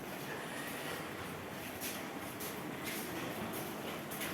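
Train at a station heard from nearby: a continuous low rumble and broadband roar, steady and fairly loud, with faint intermittent higher hisses or squeals and no talk.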